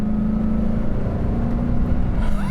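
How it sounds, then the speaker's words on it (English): Chevrolet Corvette at full throttle, engine drone holding steady and loud with a strong low hum, rising toward the end as it pulls hard. "we're gonna try some acceleration run here, and foot to the floor"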